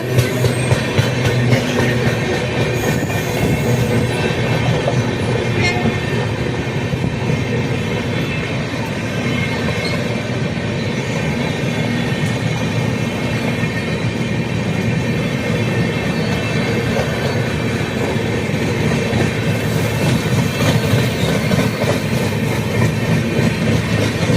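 A passenger train on a journey from Tiruchirappalli to Erode rumbles steadily with continuous wheel and carriage noise and a low engine drone, loud and close, with faint squeals as it slows to a stop.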